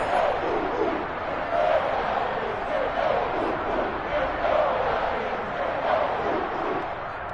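Stadium crowd noise in an EA Sports football video game, a steady, loud roar of cheering fans building on a big third down late in a tied game, continuous throughout.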